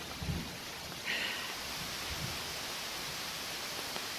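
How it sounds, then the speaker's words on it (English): Rain falls steadily through the woods during a thunderstorm at a camping site, a soft broadband hiss that holds throughout, with a few faint low thumps. "The rain started. We heard it coming down through."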